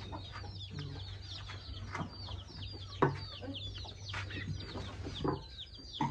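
Several chickens cluck and chatter together nearby, a busy overlapping flock sound over a low steady hum.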